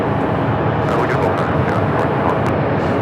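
An Airbus A220-300 jet at Phoenix Sky Harbor airport gives off a steady, broad engine roar at takeoff. The sound is loud and continuous and carries through the whole stretch.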